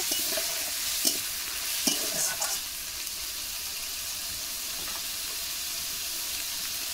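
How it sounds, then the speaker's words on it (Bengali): Onion, garlic and ginger paste sautés in a pan: a strong, continuous sizzle with a few scraping stirs early on, then a steady hiss. "তো পেঁয়াজ আর রসুন আর আদাটা দিয়ে আমি কিন্তু কিছুক্ষণ একটু কষিয়ে নেব।"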